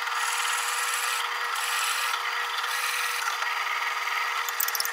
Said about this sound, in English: Then I will start drilling this through down to the depth that I set.